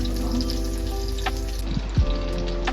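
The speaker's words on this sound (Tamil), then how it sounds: "ஸோ வெங்காயம் வதங்கிடுச்சு, நல்லா கோல்டன் ப்ரௌன் ஆகிடுச்சு." Onions fry in a pan for a Kerala fish curry, a steady close sizzle with a brief scrape or clatter near the end and no talking.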